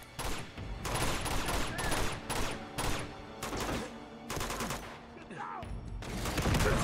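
Bursts of automatic gunfire in the video game Uncharted 2: Among Thieves, loud rapid volleys that repeat in clusters separated by short pauses, with a brief voice heard between them.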